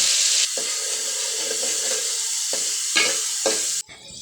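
Onion and garlic paste fries in oil in a wok, giving a close, steady sizzle broken by a few sharp stirring scrapes before it cuts off suddenly.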